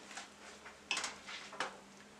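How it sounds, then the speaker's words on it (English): A spoon scraping and clinking against a pot while okra and fish seasoning are stirred, with a few soft, close knocks and scrapes over about two seconds. "I'm going to stir it up. I don't want to break up my okras."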